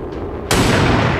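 A single sharp sniper shot in the video game XCOM 2 lands suddenly after a quiet moment, loud and close, followed by a broad, sustained rumbling roar that carries to the end.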